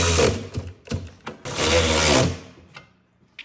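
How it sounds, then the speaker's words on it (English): Wrenches tightening a bolt on a walk-behind sidewalk sprayer during setup, with ratcheting metallic clicks and scraping, then a longer grinding rattle before the sound stops. "We'll get some wrenches to tighten that up."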